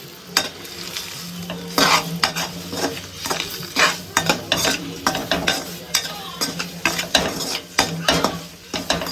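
Eggs frying in butter with turmeric, red chilli powder and salt, a soft continuous sizzle broken by repeated sharp scrapes and clinks of a utensil stirring in the pan, close and fairly busy.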